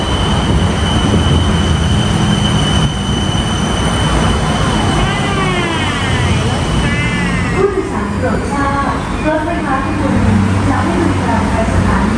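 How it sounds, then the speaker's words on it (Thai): A Bangkok Gold Line train pulls into Krung Thon Buri station with a low rumble and high squealing brakes that rise and fall, amid busy station noise and scattered voices. "รถไฟมาแล้ว"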